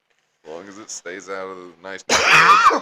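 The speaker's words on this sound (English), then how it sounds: "That was a cough." Someone talks briefly, then a single harsh, loud cough bursts out right after his words, close to the listener.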